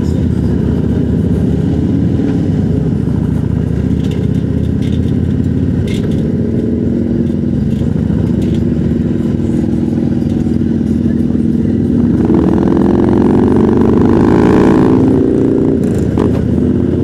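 A motorcycle engine runs loud and close, rumbling at idle and then revving up and back down near the end, with a faint voice in the background.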